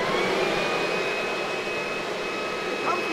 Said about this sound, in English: Simply plug in your handheld dryer and turn it on and dry your clothes.